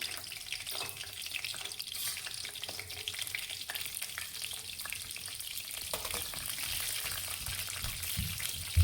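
Halved green chillies fry in hot mustard oil, a dense, close crackling sizzle that holds steady for several seconds, with occasional faint pops and scrapes.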